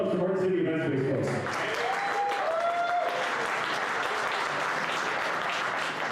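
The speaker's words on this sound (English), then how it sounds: "one more round of applause for our city event space folks." A crowd at a SecKC meetup gives a sustained round of applause, with a few cheers or whoops early on, the clapping dense and steady throughout.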